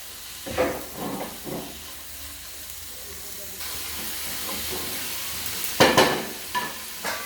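Red amaranth greens fry in a pan with turmeric and salt, a soft hiss broken by several bursts of spatula scraping and stirring, close by.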